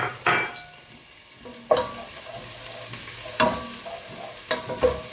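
Garlic, onion and ginger frying together in a pan with gentle sizzling, broken by a few sharp stirring clatters of a utensil against the pan, close and fairly quiet, with no talking.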